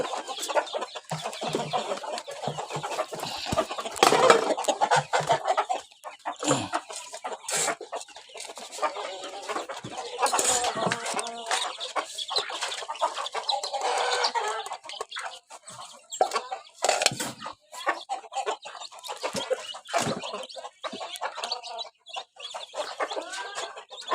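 A flock of chickens, including spurred roosters, clucks and squawks busily at feeding time in the evening, close and continuous with overlapping calls throughout.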